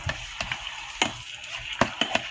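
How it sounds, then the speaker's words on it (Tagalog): Chicken sautéing in a multi-function electric cooker, a steady soft sizzle broken by several sharp clicks and scrapes from stirring, close and fairly quiet with no talk. "So gigisa muna natin itong chicken"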